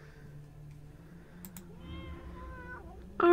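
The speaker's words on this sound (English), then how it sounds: "Oh, it's a kitty." A cat meows in the dark horror adventure game Tormentum, a short tonal call over a low ambient drone and soft game music, with a louder burst at the very end.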